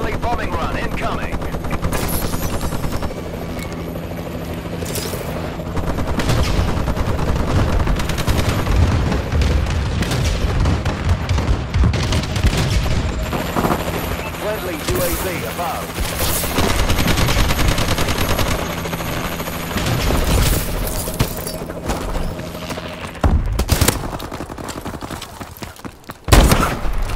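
A Warbird bombing run in Call of Duty: Advanced Warfare brings loud, sustained machine-gun bursts, heavy booms and explosions, and a low airborne drone. The bursts continue over most of the stretch, and a voice talks intermittently over the battle.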